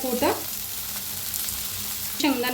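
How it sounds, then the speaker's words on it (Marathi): Rice and crushed peanuts with salt dry-roasting in a pan for an Ekadashi fasting thali, giving a steady low sizzle with soft stirring throughout, while a voice speaks briefly at the start and again near the end. "छान असं भाजून घ्यायचं, म्हणजे छान होते, खायला चव लागते।"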